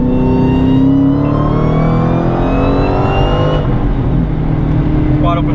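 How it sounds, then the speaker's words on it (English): A Dodge Challenger Hellcat running a flex fuel tune roars under a wide open throttle pull, its loud close engine note climbing steadily in pitch with a whining supercharger tone before easing off. "wide open throttle pull just to see how that looks in the data log"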